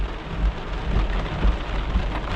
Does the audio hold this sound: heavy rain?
yes